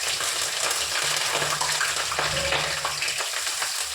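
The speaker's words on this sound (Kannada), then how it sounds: "ಎಲ್ಲ ಚೆನ್ನಾಗಿ ಒಂದ್ಸಲಿ ಫ್ರೈ ಮಾಡಿಕೊಂಡು" Green chillies and onion frying in a pan, a loud continuous hiss and crackle with occasional stirring movement, close and unbroken, with no one talking.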